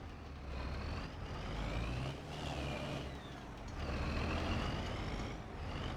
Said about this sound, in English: this is the sound of a 6-cylinder New Holland Ford.